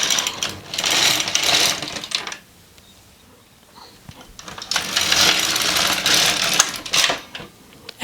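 Knitting machine carriage sliding across the needle bed to knit textured flower-stitch rows: two bursts of loud, dense mechanical whirring and rattling, the first about two seconds long and the second longer, separated by a quiet pause with a few faint clicks.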